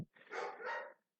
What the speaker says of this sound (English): I'm sorry if you hear the doggy in the background.